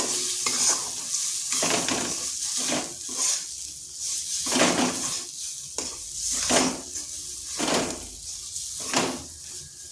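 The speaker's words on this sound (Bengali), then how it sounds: "এই ছোলার ডালটা একটু ভাজা ভাজা করে নেব" Chana dal fries in oil in a wok while a utensil stirs and scrapes it repeatedly, a steady sizzle under rhythmic, close scraping strokes.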